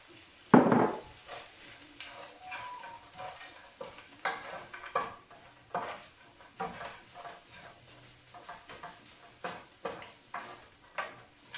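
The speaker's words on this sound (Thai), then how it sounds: "พอผัดเนื้อปูเริ่มหอมแล้วก็เอาผักแต้มสี่ลงไปผัดพี่น้อง" Crab meat and vegetables are stir-fried in a pan for crab fried rice. A loud clatter opens the sound, followed by repeated spatula scrapes and taps at an uneven rhythm over a faint sizzle, with no voices.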